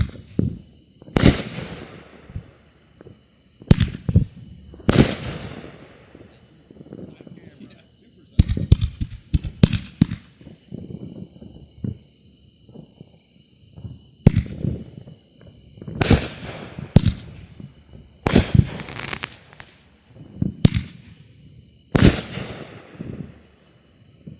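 Loud backyard fireworks from a Junkyard Dog cake by No Name, with repeated sharp booms and crackling bursts spread unevenly across the stretch and a few closely bunched volleys, and outdoor background noise in the gaps.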